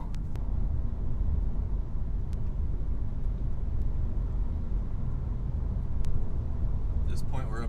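A manual BMW 530xi wagon cruises at highway speed, its steady low road and engine rumble holding even and fairly quiet, with a few faint ticks and rattles inside the cabin.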